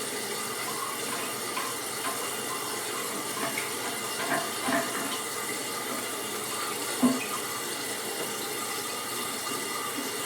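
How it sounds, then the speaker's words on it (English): A steady rush of water filling a toilet tank, constant and fairly quiet, with a couple of faint knocks partway through. "flush the toilet, make sure it fills back up properly and the water line goes up"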